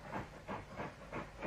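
A steam locomotive hauling a goods train approaches past a signal box, its exhaust beating in regular, evenly spaced chuffs about every third of a second over a steady hiss and rumble, moderately loud and alone.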